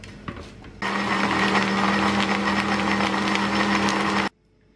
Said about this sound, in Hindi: थोड़ी सी बर्फ डालेंगे, ग्राइंडर कर लेंगे